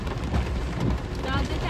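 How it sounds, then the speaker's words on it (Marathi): Heavy monsoon rain pours steadily on a trip near Lonavala, a dense continuous roar of downpour that fills the whole moment with no letup. "पाऊस बघा लई डेंजर."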